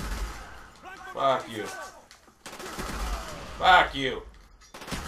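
Gunfire in the Call of Duty video game, short rapid bursts of shots in two clusters, loud and close, with a man swearing over the shooting.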